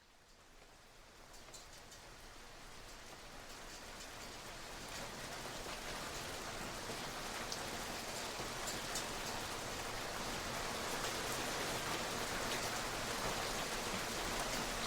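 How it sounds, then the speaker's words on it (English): Steady rain falls in a perpetually hazy city, a dense, even hiss of drops on surfaces that swells slightly and then holds constant, with no voices. "It rains. It always rains."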